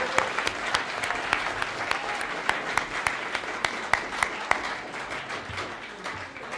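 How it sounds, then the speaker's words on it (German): At an AfD New Year's reception in Munich West, an audience claps to welcome EU candidate Bernhard Zimniok. The claps are loose and distinct, moderately loud, and thin out toward the end, with talking underneath. "Ich weiß genau, diesen Applaus kriege ich jetzt"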